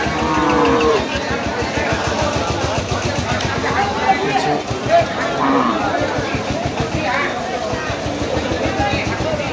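Cattle at a livestock market moo repeatedly over a steady crowd babble, with a person talking close by throughout.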